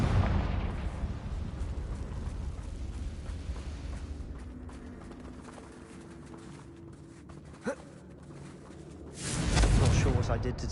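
A Confringo blasting curse goes off in a Harry Potter video game, opening with a rumbling blast that tails away, a sharp pop in the lull, then a second loud burst toward the end.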